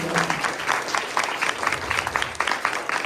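A roomful of people at a human services candidate forum gives a sustained round of applause, a steady crackle of many hands clapping that carries on for several seconds.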